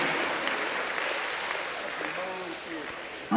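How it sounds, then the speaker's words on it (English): A boxing event crowd applauds after an eight-round fight, steady broadband clapping filling the hall at moderate loudness, with a voice faintly mixed in underneath and a brief louder burst at the very end. "let's give both ladies and gentlemen a round of applause for a great fight"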